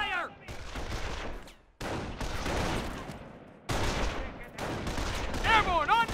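Squad gunfire in the Company of Heroes strategy game, bursts of rifle and machine-gun fire rattling in clustered volleys with brief gaps, heard under game voices calling out orders.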